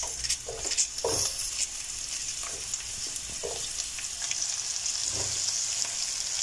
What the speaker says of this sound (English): Let's saute the onions until they are translucent.